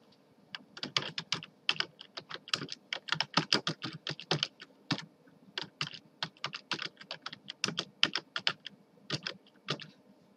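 Fingers type on a computer keyboard in quick, irregular bursts of crisp clicks, close and clear, with brief pauses between runs of keystrokes and no talking.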